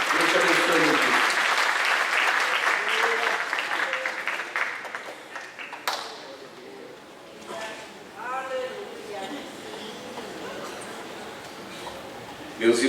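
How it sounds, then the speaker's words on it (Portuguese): Congregation applause in a church, loud dense clapping at first that thins and fades out, followed by a voice speaking over the quieter room. "Então aplauda o Senhor."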